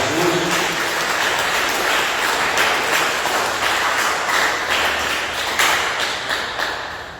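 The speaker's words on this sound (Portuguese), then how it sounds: "Quem pode dar uma salva de palmas para Jesus?" A church congregation breaks into applause during a Portuguese-language service, a loud, sustained round of clapping from many hands that tapers slightly toward the end.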